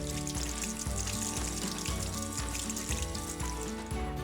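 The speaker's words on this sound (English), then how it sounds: "first wash your hand with soap and water" Tap water running steadily while hands are washed with soap at a sink, a continuous splashing hiss under prominent background music with a repeating beat.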